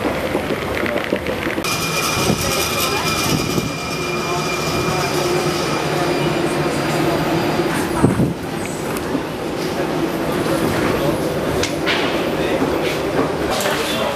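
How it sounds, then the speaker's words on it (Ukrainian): A Prague metro train rumbles through the station with rattling wagons and a loud mechanical clunk midway, continuous and close, while people talk over it. "Передай привіт з чеського метро. Добрий день, метро Чеська."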